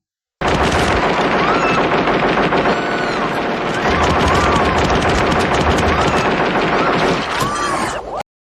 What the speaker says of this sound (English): RoboCop is attacked by the Ed 209, which has a weakness to stairs.